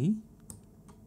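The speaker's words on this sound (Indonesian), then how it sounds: "kemudian di keyboard tekan Ctrl E" Computer keyboard keys tapped for a Ctrl+E shortcut while retouching a photo: two or three light, sharp clicks close by, after a brief fragment of voice at the start.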